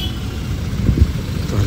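Cars and motorbikes sit in a long traffic jam on a Nainital street. A steady, muffled low engine rumble carries no clear single pass-by and no talk.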